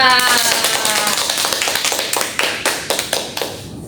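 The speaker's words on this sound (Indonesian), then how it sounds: "Beri aplaus untuk kita semua" Students applauding in a classroom during a chemistry microteaching lesson, a burst of scattered hand claps that thins into a sparse, uneven rhythm of single claps.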